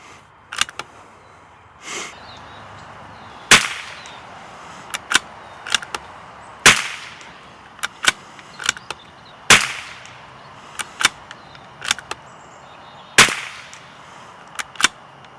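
A CZ 457 .22 rifle fires SK Biathlon ammunition at a range. Sharp, loud single shots and clicks ring out irregularly across fifteen seconds, with a short gap between each report.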